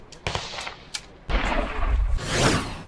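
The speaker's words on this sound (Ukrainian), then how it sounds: "От тільки звуки пострілів, очевидно, наклали на монтажі" Gunshot sounds dubbed over footage of soldiers firing: a few sharp, separate shots, then a loud, dense stretch of continuous gunfire, close and with no talk.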